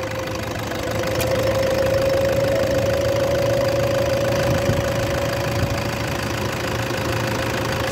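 A 2014 Toyota Fortuner's 2.5-liter D-4D diesel engine runs at a steady idle, a continuous close-up clattering knock with a constant whine over it and no voices throughout.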